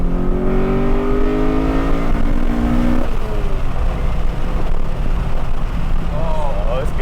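A Honda H22 engine in an Accord wagon revs through a titanium intake, a loud rising drone that climbs and falls back, with voices talking over it.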